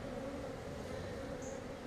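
Honey bees fly around an open hive during an inspection, making a dense, steady buzzing drone that fills the air without letting up.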